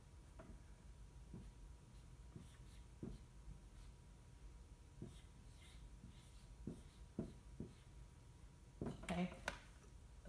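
A lecturer writes on a board during a photography history lecture, a faint scattering of short taps and scratchy strokes spread across the stretch, with low room noise beneath.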